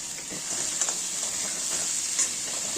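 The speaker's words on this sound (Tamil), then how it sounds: "நல்லா திக்கு கடாயில் இந்த மாதிரி வதக்கிக்குங்க." Minced mutton keema is sautéed with very little oil in a thick kadai, making a continuous close sizzle and hiss with faint stirring scrapes and no talk.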